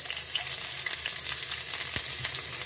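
Steady oily sizzling and crackling of onion frying in a pan, continuous and close, with a few soft stirring clicks.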